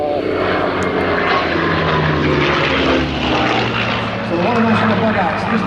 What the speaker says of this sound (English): the Spitfire pilot is using very light, nimble aircraft to get on the tail of the 109